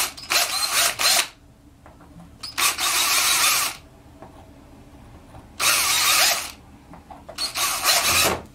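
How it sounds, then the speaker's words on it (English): Power drill boring out a hole while a picture frame's hanging hardware is repositioned, running in four loud whirring bursts of one to two seconds separated by quiet pauses. "So I'm just going to go ahead and drill that out again."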